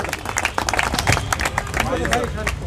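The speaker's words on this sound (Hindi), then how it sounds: "ताली बजा दो भाई।" An audience claps to welcome Mahmood Paracha at a public gathering about sanitation workers: a dense, steady patter of many hands, fairly close and loud, with voices and crowd murmur running underneath throughout.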